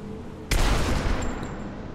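A sudden gunshot in Rise of the Tomb Raider cracks loud and close after a quiet half-second, followed by a brief rattling tail and a thin high ring.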